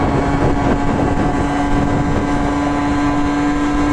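A Kawasaki KE100 motorcycle engine held at top speed, a loud constant droning whine mixed with rushing wind buffeting the microphone.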